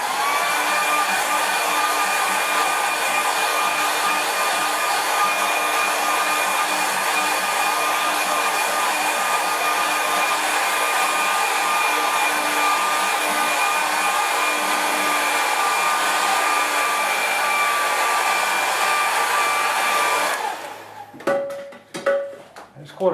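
A hair dryer runs steadily and loudly for about twenty seconds, drying watercolour painting paper that has been pulled tight and flat, then switches off, leaving a few light handling knocks.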